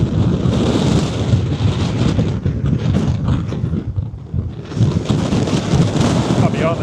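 Strong wind roars across open ground in the Scottish Highlands, buffeting the microphone in loud, continuous rumbling gusts that dip briefly midway before surging back.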